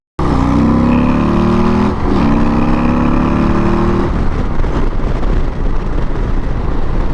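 A 2023 Harley-Davidson CVO Road Glide motorcycle accelerates hard, its loud engine note climbing through the gears with a brief dip at a shift, up close with heavy wind rush and no talk.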